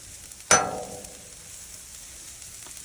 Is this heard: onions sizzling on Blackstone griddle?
yes